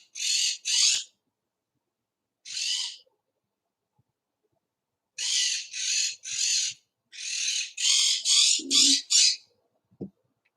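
A pet bird gives loud, harsh squawks indoors, singly and in quick clusters with silent gaps between them, and a few faint low sounds are heard near the end.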